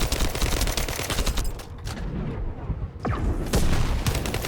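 Sustained automatic gunfire rattles nonstop in a firefight from The First Descendant, loud rapid bursts with booming impacts and a short lull before the shooting resumes.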